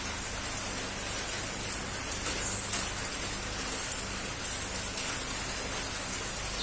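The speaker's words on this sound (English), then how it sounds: "This is a cheap gun, airbrush gun, very cheap." A cheap airbrush gun with a 0.2 needle sprays onto wood, giving a continuous soft, even hiss that stays faint and steady throughout.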